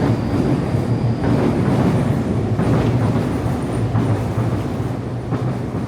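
Train passing in Japan, a loud continuous rumble with rhythmic wheel clatter and faint squeal, close and steady throughout with no talking.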